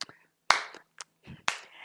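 Soul clap from someone among a clapping crowd: a few sharp, close hand claps spaced unevenly, with faint voices in between.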